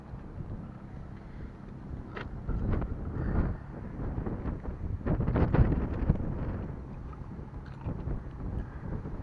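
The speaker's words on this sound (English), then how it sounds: "windy day" Wind buffets and rumbles steadily over the microphone outdoors at Naples Air Center during a small plane's pre-flight check, swelling in gusts midway, with faint clatter in the background.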